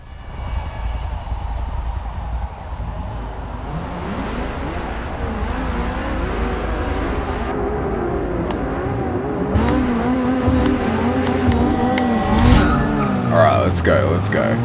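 Race car engines in the Forza Motorsport 6 video game at the start of a Super Street career race, a loud continuous engine drone whose pitch climbs and shifts as the cars rev and accelerate.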